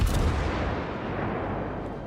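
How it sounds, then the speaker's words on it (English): The heavy cruiser Admiral Hipper firing high-explosive shells in World of Warships, a single loud, close, booming salvo whose rumble rolls on and slowly fades. "So we start firing high explosive."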